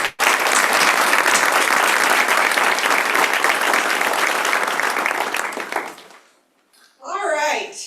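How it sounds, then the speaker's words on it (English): A round of applause from the crowd at a Purple Star awards ceremony, dense and sustained for about six seconds before fading out, followed by a brief spoken voice. "Let's give him another round of applause."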